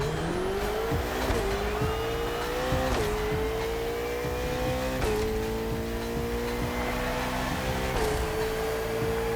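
A car pulls away and accelerates hard on a test drive, its engine note rising and falling through several gear changes with tyre squeal, loud and close without any talk.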